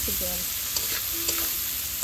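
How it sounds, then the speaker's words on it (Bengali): Food frying in a pan is stirred, a constant close sizzle with a few light scraping strokes of the utensil. "ওটাকে ভালো করে নাড়তে হবে যখন দেখবে একটা সুন্দর ভাজা গন্ধ হচ্ছে"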